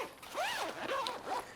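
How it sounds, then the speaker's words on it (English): Zipper on an Incase A.R.C. travel pack pulled along its track in a few quick, rasping strokes, close and fairly quiet with no talking. "Bring this zipper back."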